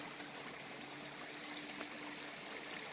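A small stream on the Appalachian Trail runs with a steady, close, even trickle and gurgle of flowing water, with no other sounds over it.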